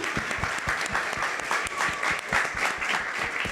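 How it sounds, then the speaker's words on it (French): Steady audience applause from a crowd, a dense patter of many hands clapping at even loudness with no voices rising above it. "Je suis content que nous applaudissions."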